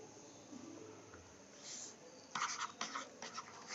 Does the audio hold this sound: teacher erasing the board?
yes